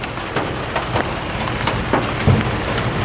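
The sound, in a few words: rain falling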